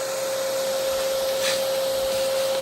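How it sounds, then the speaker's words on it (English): Vacuum cleaner running near a Model T car, a loud, steady motor whine with constant airflow hiss and a sustained tonal hum, unbroken throughout with no talking. "grab that vacuum real quick."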